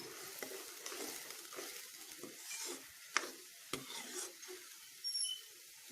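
Spice paste thinned with a little water is stirred in a pan, a faint, soft scraping and bubbling sizzle with a few sharper utensil taps along the way.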